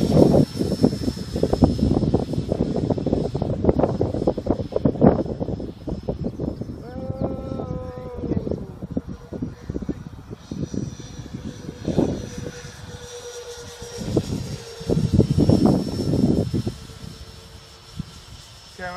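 A Dreamfly Twin-64 Su-27 RC twin electric ducted-fan jet flies overhead, its whine rising and fading as it passes, mixed with wind buffeting and nearby voices talking.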